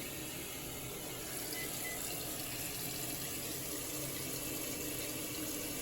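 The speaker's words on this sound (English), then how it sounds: "I will turn on the washer." A home washing machine filling with hot water while cleaning melted crayon out of the drum, producing a steady, loud rushing flow that holds unchanged for several seconds, close by and with no talking.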